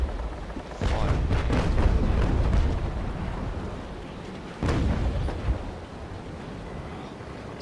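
Naval cannons on sailing warships in Naval Action booming in heavy volleys, a dense roll of blasts for the first few seconds, then a second loud discharge midway that trails off into rumble.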